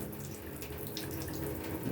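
Water pours from a tap in an apartment during a blackout, a steady close rush with faint splashing, continuous and without voices.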